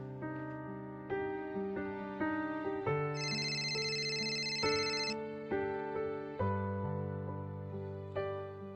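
A telephone rings with a melodic ringtone, a steady pattern of repeated synthesized tones that changes pitch every second or so, moderately quiet, with no talk over it.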